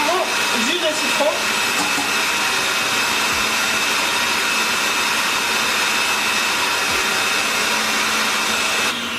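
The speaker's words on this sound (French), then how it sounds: "Je mets donc à monter dans mon Kenwood, dans le Cooking Chef ici" A Kenwood Cooking Chef stand mixer whips egg whites with lemon juice for homemade marshmallows. Its motor gives a loud, steady whirring drone that runs unbroken for about nine seconds and then cuts off.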